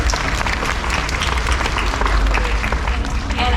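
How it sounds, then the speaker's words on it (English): A live crowd at a SeaWorld Orlando animal rescue show claps for a handsome bird that has just been shown, a dense and steady round of applause that holds loud and full from start to finish. "Let's give this handsome bird a big round of applause"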